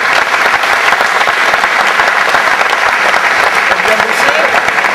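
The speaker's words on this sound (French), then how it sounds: "je vais vous demander d'applaudir bien fort les jeunes qui ont" An audience gives the young players loud, sustained applause, a thick wash of clapping that stays steady throughout, with a voice faintly audible beneath it.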